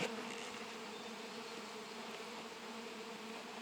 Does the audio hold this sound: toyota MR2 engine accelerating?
no